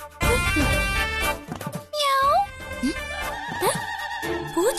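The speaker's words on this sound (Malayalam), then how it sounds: "പൂച്ച" A cat meows behind a bed, giving several short, rising mews at close range. Other voices and sounds from the room overlap the calls.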